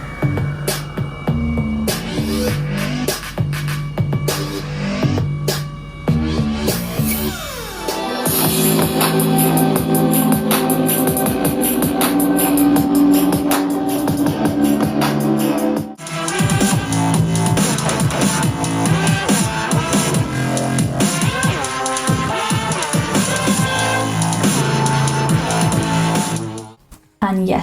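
Music plays from a Sony SRS XB13 wireless Bluetooth speaker streamed from an iPhone, a full dense mix with steady beat and bass running for nearly half a minute, with a brief dropout midway and an abrupt stop at the end.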